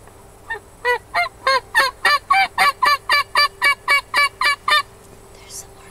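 Wild turkey hens and young jakes call from a food plot in a loud, close run of about fourteen evenly spaced yelps, each a quick, raspy note repeated at a steady pace before trailing off.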